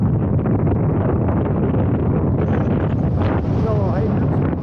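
Strong wind of at least 50 blows across the top of a cinder cone, roaring and buffeting the microphone in a loud, continuous, gusty rush.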